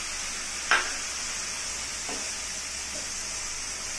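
Chopped tomato going into a pan of sizzling spice masala for an eggplant curry: one sharp hiss as it lands, then a steady, fairly quiet sizzle with a couple of faint stirring touches.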